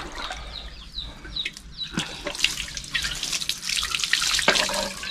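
Tap water runs into a sink to wash a blackened, dirty frying pan, a steady splashing trickle with scattered clatters and drips, fairly close and continuous throughout.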